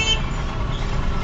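A vehicle horn blares in a Marathi traffic jam, one steady loud toot over the rumble of engines and surrounding traffic.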